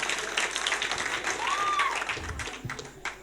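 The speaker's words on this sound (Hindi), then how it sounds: "एक बार उनका सम्मान में जोरदार ताली बजाओ आप" Audience clapping at a Hindi hasya kavi sammelan comedy poetry gathering, a moderate wash of applause from the crowd with a bright whistle-like tone rising and falling in the middle, tapering off near the end.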